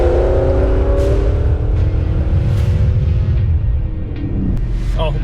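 A car with Kooks long tube headers and exhaust revs hard up close, a loud rising engine roar with shifting pitch that holds steady and then drops slightly.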